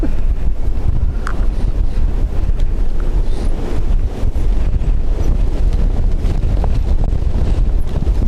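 Strong wind roars steadily across the microphone at Dublin Airport, a loud continuous buffeting rumble with gusty swells and no let-up.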